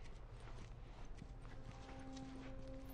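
Horse hooves clip-clop in the video game The Last of Us, a steady walking rhythm of soft hoof falls set against a constant low rumbling ambience, with faint tonal game sounds entering near the end.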